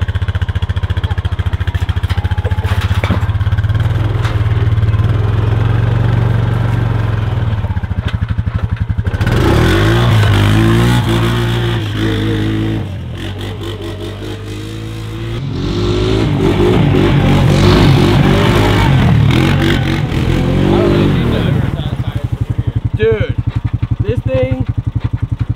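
A Honda Rancher ATV fitted with paddle tires roars close and loud, its engine revving hard as the tires spin up, then easing and surging again.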